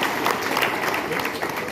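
An audience claps together, a dense continuous patter of applause, loud and close across the short stretch, with voices mixed in.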